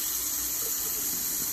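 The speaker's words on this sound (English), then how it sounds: "So first, you're gonna turn on the water." Steady rush of water pouring from a tap, a continuous close hiss with no voices.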